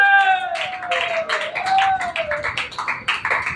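A church congregation clapping their hands during a Hindi-language sermon, the rhythmic claps entering after half a second and continuing as a steady patter beneath a sustained sung or spoken voice.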